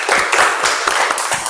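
Classroom applause from students, a brief burst of dense, close clapping that fills the whole moment without any talk over it.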